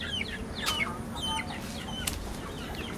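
Hens cluck repeatedly in a home garden, short chirpy calls scattered close and farther off, with a brief wing flutter or two over a low background hum.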